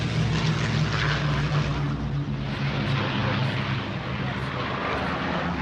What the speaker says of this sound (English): Here comes the Lancaster.